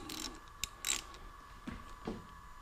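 A spark plug tool snugging a spark plug into a Firman generator engine, giving a few faint, close ratcheting clicks spaced irregularly over a quiet background.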